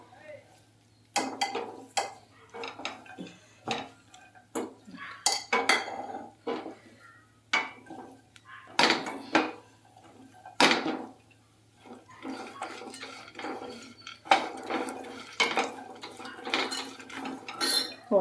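Metal utensils clink and scrape against a pan while ghee-fried walnuts are lifted out for dry fruit laddu, giving irregular close knocks and clatters with a low steady hum beneath.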